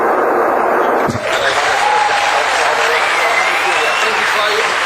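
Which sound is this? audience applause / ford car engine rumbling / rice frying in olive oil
audience applause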